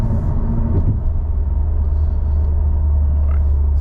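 A 2022 Subaru WRX running stock while driving, its engine producing a steady, loud low rumble and drone with continuous road noise throughout.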